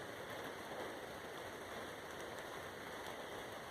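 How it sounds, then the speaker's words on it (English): Steady rain falls outdoors in a soft, even hiss of drops on surfaces, quiet and continuous with no voices. "these beautiful sounds of the rain"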